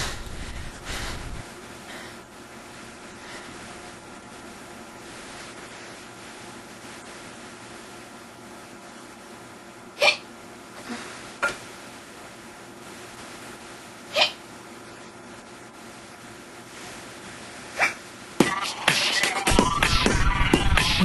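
A person hiccuping, several sharp isolated hiccups spaced seconds apart against quiet room noise, near the microphone, followed by a burst of louder rustling at the end.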